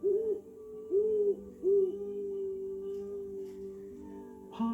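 Owl hooting at night outdoors, a few soft, low wavering hoots in a slow rhythm over a quiet steady hum, followed by a faint distant call near the end.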